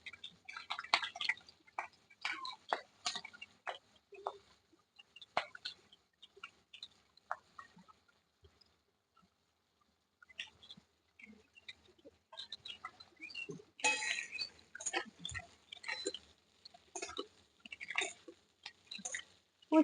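Bitter gourd drops into hot oil tempered with black cumin and slit green chillies, giving sparse crackles and spits that pause briefly, then return in a busier, sharper burst of sizzling.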